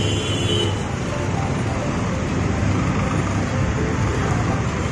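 A Gunung Harta bus, GHTS 025, pulls into an agent's parking area with a continuous, loud diesel rumble over surrounding traffic noise.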